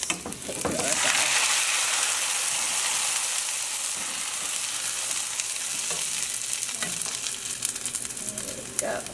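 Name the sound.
tofu noodles frying in pan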